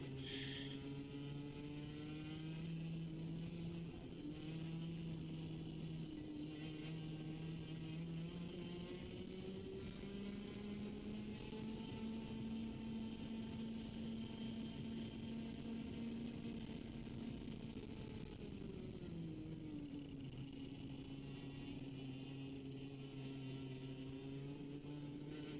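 A KA100 junior kart engine holds full throttle in a steady, buzzing drone, pitch sliding up and down through corners, continuous and fairly faint.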